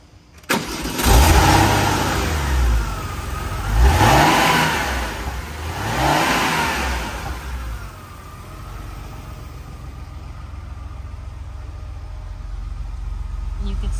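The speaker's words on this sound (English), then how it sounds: "we're gonna do a cold start." A 1997 Porsche 993 engine cranks and fires up on a 52-degree cold start, revs high twice with rising whines, then settles into a steady low idle.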